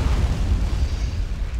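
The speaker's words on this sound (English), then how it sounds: "that was a nice explosion" A booming explosion in the war strategy game Men of War: Assault Squad, a heavy low rumble that stays loud and sustained for the whole moment with no talk over it.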